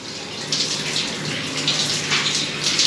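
Ice-cold water sprays and splashes steadily from a shower head, a continuous close rushing hiss with slight surges, no voices.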